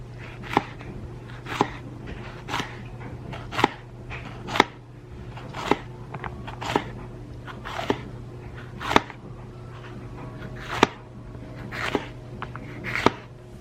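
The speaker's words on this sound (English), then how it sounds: "I'm going to cut up a jalapeno" A knife chops through a jalapeno on a cutting board in a home kitchen, a dozen sharp, evenly spaced cuts with a steady low hum underneath.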